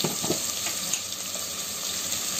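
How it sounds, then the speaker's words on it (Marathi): Ginger-garlic paste frying in ghee makes a dense, continuous crackling sizzle, fairly loud and close, with no talking over it. "आलं लसूणची पेस्ट आहे ती परतून घेऊया"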